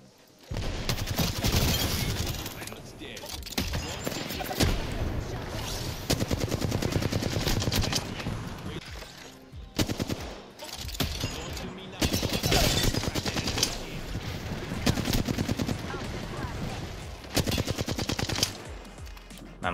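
Sustained automatic gunfire in the battle royale shooter Apex Legends, dense rapid bursts nearly continuous for about twenty seconds with brief gaps, loud and close.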